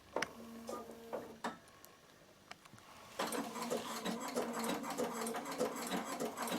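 Bernina sewing machine stitching a decorative pattern along the edge of wool applique; a few slow, separate ticks at first, then a steady, busy whirring run from the middle onward.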